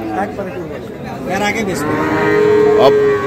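Cattle, farm bulls at the Ambari livestock market in Dinajpur, let out a loud, drawn-out moo close by, rising toward the end over a background of market chatter.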